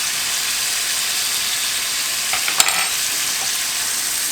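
Crushed tomatoes and oregano fry in a pot with a steady bright sizzle, and a few soft scrapes and knocks of stirring come near the middle.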